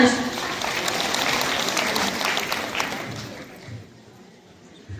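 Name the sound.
audience applauding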